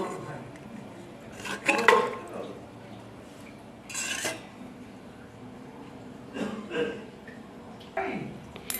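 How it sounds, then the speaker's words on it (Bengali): Washed mutton tipped into a pressure cooker, giving a few close metallic clanks and scrapes of the pot and utensils in short bursts, with quiet pauses between. "প্রেশার কুকারের মধ্যে আমি মটনগুলো ঢেলে নিচ্ছি"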